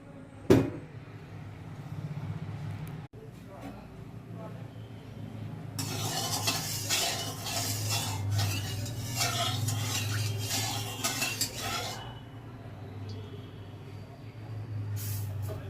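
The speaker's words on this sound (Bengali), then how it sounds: "কড়াটা গরম হয়ে গেছে, মাছগুলো এবার ভেজে নেব।" Rohu fish pieces frying in hot oil in a kadai make a steady, dense hiss that swells loud for several seconds, with a few clanks of a utensil against the pan beforehand.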